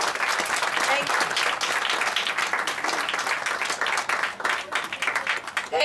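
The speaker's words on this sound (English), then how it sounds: "Can we have a big applause?" Parents and guests at a school event for Senior KG children give loud, sustained applause, dense clapping filling the room steadily from start to finish.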